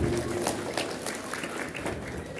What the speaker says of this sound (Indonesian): Tepuk tangan dulu buat ibu-ibu.